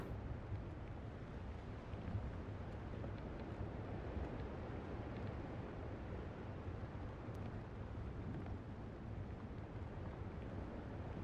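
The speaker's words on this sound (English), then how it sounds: "Sailing his ship." A ship sails in the video game Windrose, heard as a steady, low rushing wash of water and wind that stays at an even level throughout with no voices.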